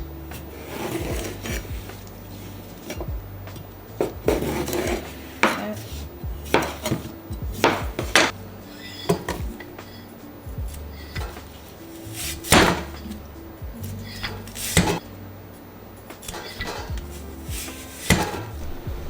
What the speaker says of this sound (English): Now we're gonna cut up the cucumbers